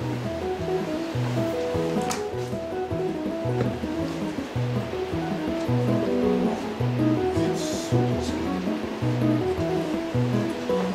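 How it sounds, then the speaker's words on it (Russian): Heavy rain pouring outdoors in Crimea, a continuous dense wash of water noise heard nearby at moderate level, mixed with a low repeating mechanical hum and no talk. "Дождь лупит, надо же, что будет"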